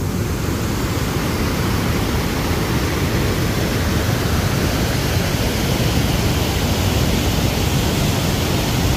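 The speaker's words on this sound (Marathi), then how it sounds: "पाणी कसलं फोर्सनी पडते बघा इकडे." A loud, unbroken roar of a waterfall pouring with force nearby fills the whole stretch, dense and forceful.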